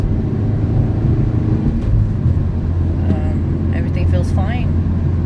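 A 2016 Scion iA drives in winter weather, with a steady low engine and road drone and a brief higher tonal sweep near the end.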